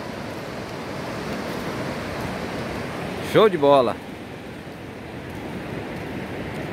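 Surf at Praia Gravatá in Navegantes, Santa Catarina, a steady broadband wash of waves rolling through the whole clip with wind noise, and someone speaks briefly midway.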